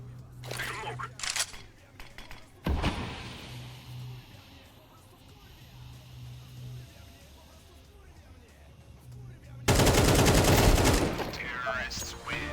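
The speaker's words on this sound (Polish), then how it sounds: "Strzały ostrzegawcze, tak?" Loud bursts of gunfire: a sharp blast early on, then a dense, sustained volley near the end, with quieter game noise between.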